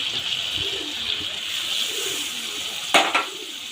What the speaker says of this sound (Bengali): সরিষা বাটার যে বাটি ছিল সেটা দিয়ে এক বাটি জল দিচ্ছি